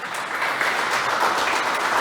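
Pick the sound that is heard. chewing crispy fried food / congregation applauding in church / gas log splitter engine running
congregation applauding in church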